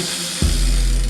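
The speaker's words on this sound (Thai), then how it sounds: "นี่เสียงดุมโอเค" A brief burst of fast mechanical ticking from a BMX rear hub ratchet, close up, starting partway through and holding steady.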